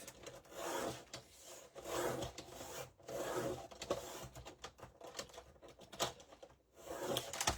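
A quarter inch trimmed off the end of a piece, probably wood, cut with a hand tool in rhythmic rasping strokes at close range, pausing briefly between bursts, with no talk.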